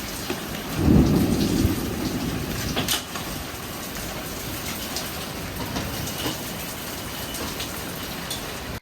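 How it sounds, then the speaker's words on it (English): Hail and heavy rain pounding during a thunderstorm, a loud burst of low rumbling thunder early on, then a dense, steady hiss and patter of precipitation with occasional sharp impacts. "Hail is coming in."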